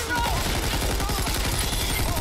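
Gunfire from a video game, with rapid, rhythmic automatic shots rattling steadily throughout, loud and dense, with faint game sounds mixed in.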